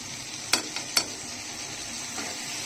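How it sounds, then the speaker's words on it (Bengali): Spice masala for dried kachki fish stir-fries in a pan with a low, even sizzle, broken by two sharp scrapes of a stirring utensil close together near the start. "এখন ভালো করে মশলাটাকে একটু কষিয়ে নিচ্ছি।"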